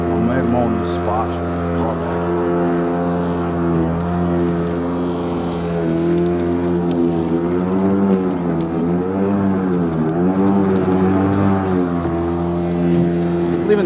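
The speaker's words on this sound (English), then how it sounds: "I'm mowing this spot." An electric lawn mower cuts grass on a cool morning, its motor giving a steady, close humming drone that runs the whole time while someone talks over it.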